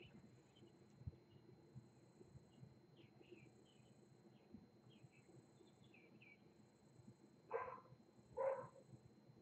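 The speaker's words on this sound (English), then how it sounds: "You can hear a dog barking." A dog barks twice in the distance, brief and faint, against a steady chorus of insects.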